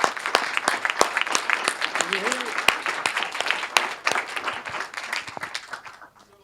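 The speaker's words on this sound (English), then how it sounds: "Yes, we can applaud." Audience at a neuroplasticity-after-surgery lecture breaks into applause, a dense patter of many hands close by with a voice briefly speaking over it before the clapping thins out at the end.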